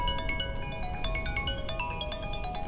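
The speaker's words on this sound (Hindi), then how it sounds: "ये देख मैसेज की घंटी" A phone message notification plays as a short melodic electronic chime, a quick run of bright tones over steady low background noise, lasting about two seconds.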